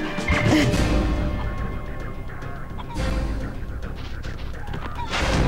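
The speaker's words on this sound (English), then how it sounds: "Chicken." Chicken clucking in the video game Spyro: Year of the Dragon, heard amid busy game music and effects, with short fowl calls near the start that are partly masked by the dense background.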